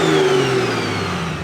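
A BMW E90 sedan with a 700 hp N54 engine revs steadily and loudly up close, with a droning exhaust tone that holds through the clip and no voices over it.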